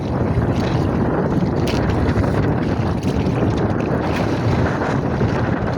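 Wind and rough waves buffet a small fishing boat at sea, a steady loud broadband roar of gusts and splashing water close to the microphone with no talk.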